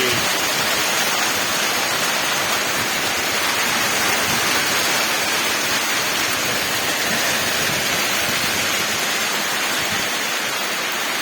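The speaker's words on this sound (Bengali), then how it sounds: "দেখেন অস্থির বৃষ্টি" Heavy rain pours down in the late afternoon, a dense, unbroken hiss that stays loud and even throughout, with no voices over it.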